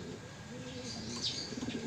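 Racing pigeons coo softly in a loft, low throaty calls repeating faintly over a quiet background, with a few light chirps.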